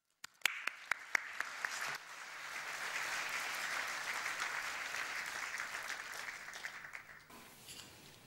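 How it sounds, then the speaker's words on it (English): A few sharp individual claps start things off, then an audience breaks into sustained applause that swells and holds before fading into scattered claps, welcoming performers to a stage. "Please welcome up to the stage with a big round of applause Alia Azugbi, Khaled Hakim and Niri Sadeh"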